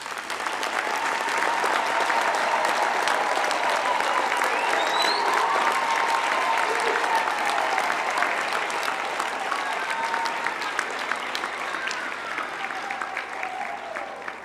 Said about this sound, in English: this is an appropriate time to give our graduates a big hand for their hard work and perseverance.